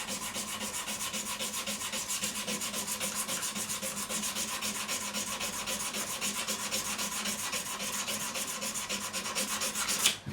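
Sandpaper rubs by hand along the neck of a Japanese-made Fender Stratocaster in quick, even back-and-forth strokes, a steady close scratching rhythm with no talking.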